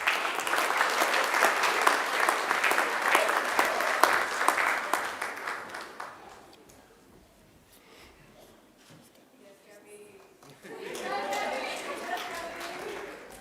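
Audience at a Macquarie University graduation ceremony breaks into loud, sustained applause for about six seconds, then the clapping dies away and a single voice speaks near the end.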